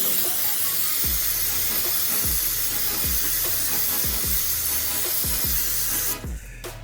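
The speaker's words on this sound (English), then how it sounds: "Close your eyes, brake clean time." An aerosol can of brake cleaner sprayed at the underside of a 1990 Volvo 245, a loud steady hiss lasting about six seconds before cutting off, with faint regular knocks beneath it.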